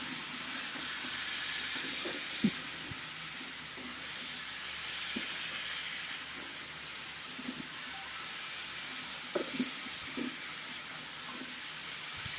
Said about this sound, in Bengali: এবারে ভালোভাবে নাড়াচাড়া করিয়ে নেব।